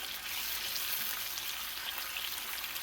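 Pheasant back mushrooms fry in a small pan on a big, hot stovetop burner, giving off a loud, steady sizzle with no talking.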